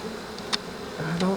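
Honey bees buzz steadily around a hive during a beekeeper's swarm-cell inspection, a continuous close drone with a few louder passes as individual bees fly near.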